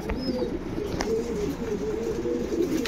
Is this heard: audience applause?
no